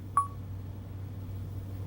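A single short electronic dialing tone from an Auto PC in-car computer sending a call to a Nokia cell phone, one brief clean beep over a steady low hum.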